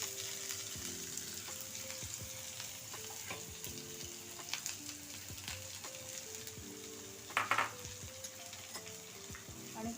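Chopped onion drops into hot oil already frying peanuts, giving a steady close sizzle and crackle with occasional stirring scrapes and a brief louder spatter burst near the end.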